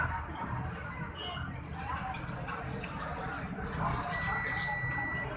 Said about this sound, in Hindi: बीप आ रही है अमूमन इस एरिया में